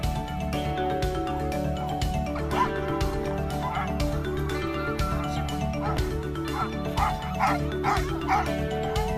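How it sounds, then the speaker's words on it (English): Many sled dogs bark and yip over one another in a noisy, excited chorus, some whimpering, close and continuous. "some of them were barking"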